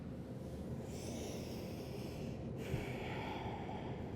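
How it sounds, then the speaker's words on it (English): Deep breathing during a yoga session: two slow, close, airy breaths, a long inhale followed by a drawn-out exhale, with no talking. "Breathing deeply."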